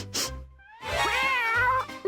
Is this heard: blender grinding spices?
no